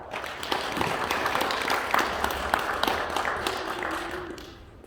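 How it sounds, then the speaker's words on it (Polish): Steady applause from a gathered audience at a first-grade school pledge ceremony, dense, continuous clapping filling the whole moment before tapering off at the end. "I brawa dla Patryka"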